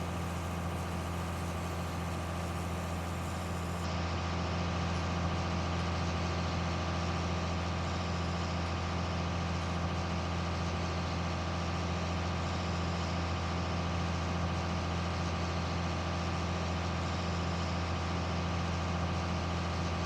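A tractor engine idles in Farming Simulator 19 during winter field work, a steady, unbroken low drone with a constant hum that holds for the whole stretch, with no voices.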